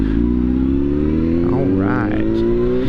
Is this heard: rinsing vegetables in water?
no